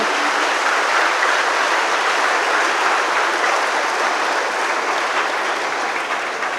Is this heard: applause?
yes